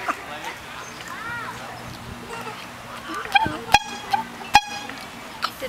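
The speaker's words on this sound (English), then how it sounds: "She can't make it honk as loud as it can" Horn of a grandmother's car honked in short toots, a few brief bursts close by, with people talking around them.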